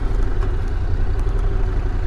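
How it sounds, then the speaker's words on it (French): Honda NC750X DCT motorcycle rolling at low speed, its engine droning steadily up close with faint mechanical clatter from the dual-clutch gearbox changing gears. "à basse vitesse, comme ici, on sent pas les rapports de boîte passer, mais par contre de temps en temps on les entend"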